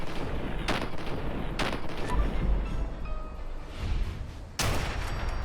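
Handmade shotgun from the video game Fallout 4 firing repeatedly, with a few sharp broadband blasts spaced over a few seconds against a dense, rumbling battle background, no talking.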